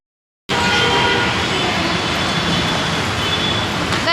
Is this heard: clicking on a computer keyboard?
no